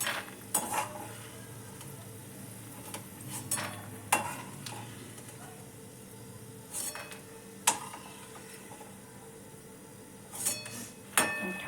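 Food browns in oil in a pan with a soft, steady sizzle, broken by sharp clinks and scrapes of a utensil against the pan; faint, without talk.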